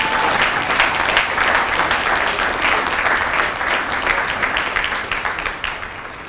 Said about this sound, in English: let's give a round of applause to the drill instructors